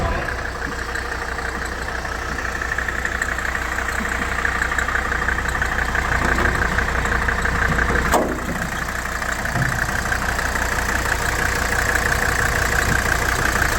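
A Mercedes W123 diesel engine idles steadily at close range under an open hood, a low, even rumble holding for about fourteen seconds with one brief clicking disturbance midway and no talk.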